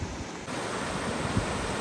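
Flowing streams in the South Wales countryside give a steady, even rush of running water, fairly loud and close, with no voices over it.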